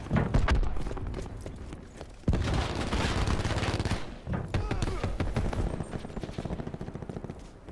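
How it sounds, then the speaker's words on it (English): Cluster grenade blasts and heavy gunfire in a video game, a dense, loud run of rapid bursts and booming detonations that barely lets up, with game voices mixed in. "Cluster grenade going out."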